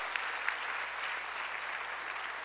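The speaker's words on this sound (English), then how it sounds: "Let's give a round of applause to our two speakers," An audience at a summit applauds two presenters after their talks, a steady, dense wash of clapping from a room full of people, even and sustained throughout.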